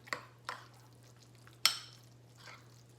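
A spoon stirs guacamole ingredients, including jalapeños, in a bowl, giving a few soft scraping strokes and one sharper clink over a steady low hum, with no talking.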